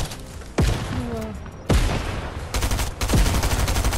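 Guards firing guns in Fortnite, several loud sharp gunshots at irregular intervals with a brief burst of rapid fire near the end, ringing over a busy game backdrop.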